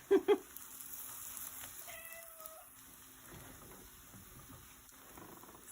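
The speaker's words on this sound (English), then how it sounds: "And that's just my hungry cat saying that he approves of what we're making." A hungry cat gives two short, fairly close meows at the very start, then a quiet sizzle of crepes frying in a pan carries on steadily underneath.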